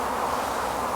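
Honey bees hum around an open beehive during colony inspection, a dense continuous buzz with a steady drone and no breaks or voices.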